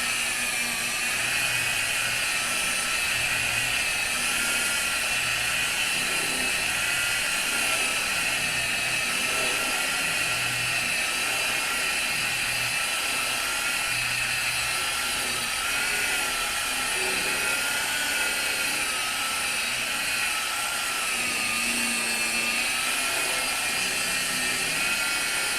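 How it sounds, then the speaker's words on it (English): A machine polisher buffs polishing compound off a Subaru Justy's paint with a steady, high-pitched whine that warbles slightly as the pad moves, running close and continuous with no talking. "We're working until the majority of the polishing compound's gone"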